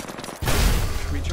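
Gunfire in Apex Legends during an arena match erupts as a sudden, loud burst of rapid overlapping shots after a quieter moment, continuing densely to the end.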